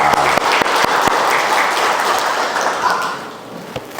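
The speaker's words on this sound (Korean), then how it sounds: "우리 한번 고생하는 미디어 팀에서 박수 한번 할까요?" A church congregation applauds its media team during a Sunday service, broad steady clapping filling the room for several seconds before thinning toward the end.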